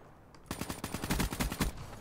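Rapid shotgun fire in the multiplayer video game Black Ops 3: a burst of about a dozen quick, punchy blasts in fast rhythm over roughly a second, moderately faint, with no voices.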